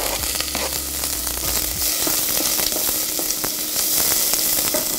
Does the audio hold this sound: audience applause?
no